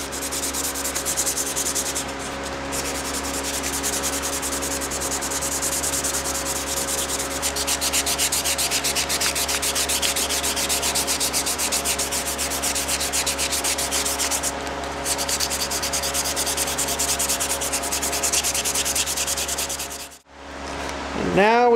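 Continuous close rubbing of 400 grit sandpaper on a hidden tang knife handle, a steady rasping back-and-forth for about twenty seconds that stops abruptly near the end.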